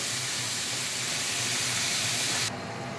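Marinated chicken seasoned with soy sauce, salt and pepper frying in a pan, a loud steady close hiss that drops abruptly to a quieter sizzle near the end.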